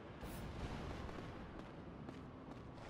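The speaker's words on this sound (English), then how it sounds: "I can't believe they'd shoot at us with the cannon." Cannon fire in The Last Story, heard as a dense, sustained rumbling barrage of booming blasts that fills the scene at steady loudness with no clear gaps.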